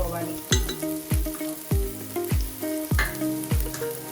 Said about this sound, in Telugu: సో అది అలా ఫ్రై అయిన తర్వాత దీనిలోకి కొద్దిగా గరం మసాలా వేసుకోవాలి.